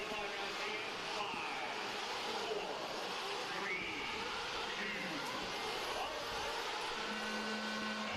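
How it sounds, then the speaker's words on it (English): Nitro RC truggy engines run at an intermediate dirt-track race, a faint, buzzy, whining drone of several small motors rising and fading at a distance, with voices and crowd murmur around them. "Douglas wants to hear what the cars sound like. These Nitro with the Nitro fumes."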